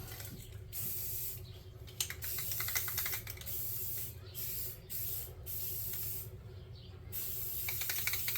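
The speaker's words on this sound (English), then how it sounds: "Now when I do this metallic finish, all I do is I spray it from a distance." Spray paint misted from a distance to build a metallic finish on a futuristic promenade tabletop terrain piece, heard as repeated close hissing bursts separated by short pauses.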